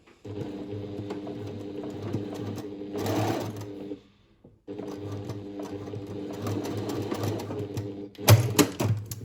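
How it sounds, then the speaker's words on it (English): Sewing machine stitching two fabric pieces together with back stitching at start and finish, a steady close whirring run, a brief pause, then another run ending in sharper clicks. "Back stitching at the start and the finish to keep it nice and secure."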